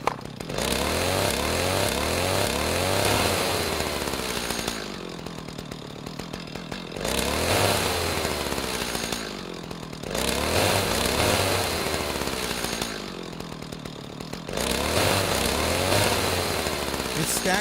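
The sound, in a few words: chainsaw rev loop sound effect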